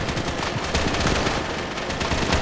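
Tank gunner firing at an enemy tank during a war video game battle, a dense, continuous rattle of rapid gunfire and bursts filling the whole stretch at steady loudness with no talk.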